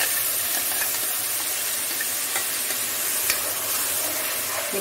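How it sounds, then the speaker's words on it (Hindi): Ginger and chili crackling in hot oil in a pan, a dense continuous sizzle with small pops throughout, close and fairly loud, no voices. "थोड़ा सा क्रैकल होने दीजिए।"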